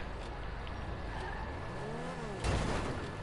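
An X80 Proto supercar drives in a video game, its engine droning steadily up close with tire noise, a gear-change-like pitch sweep and a louder burst near the end.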